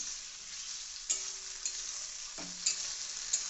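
Fried rice and chilli chicken are stirred together in a frying pan over a constant, even sizzle, with a few light clinks of the spatula against the pan, close and without voices.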